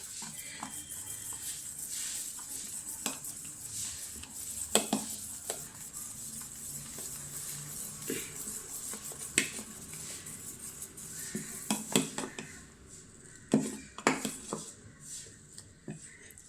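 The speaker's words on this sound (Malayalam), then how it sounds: "ഉപ്പിട്ട് നന്നായിട്ട് കലക്കി വെക്കാം." Idli batter being stirred with salt in a kitchen vessel: scraping swirls punctuated by sharp clinks of a utensil against the pot, moderately close, with no talking.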